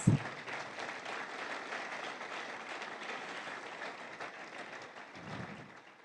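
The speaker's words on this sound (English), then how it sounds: "I'm going to wait for the applause to rise" Audience applause follows the introduction of Mauritius's first female president, a steady, fairly distant wash of clapping that fills the room from start to finish at an even level.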